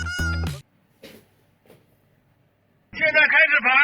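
A cat meows loudly in a few bursts, separated by faint clicks in near silence, before a longer run of quick overlapping meows like a rapid shutter-burst sequence from a Nikon camera.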